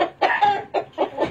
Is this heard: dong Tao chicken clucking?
yes